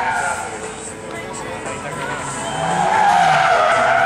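A rear-wheel-drive Ford Escort rally car of more than 300 horsepower slides sideways through a corner, its tyres skidding and squealing loudly over engine noise, rising toward the end, with a commentator's voice and crowd in the background.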